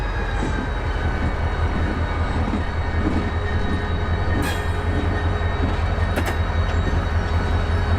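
An HO-scale model train rolls slowly into an empty yard track with a steady low rumble, and brief metallic wheel squeals rise sharply now and then.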